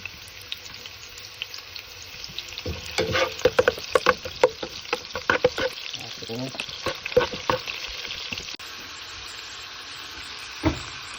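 Onions hit hot oil in a pan for dinuguan, a sudden sizzle with rapid stirring clatter and scraping that gradually settles, plus a faint trickle of water, all close with no talk.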